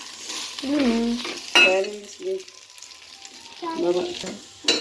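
Curry with curry leaves sizzles in a pan while being stirred, a close crackling fry broken by scraping strokes, with a voice and other sounds intruding at times.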